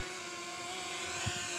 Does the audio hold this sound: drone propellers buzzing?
yes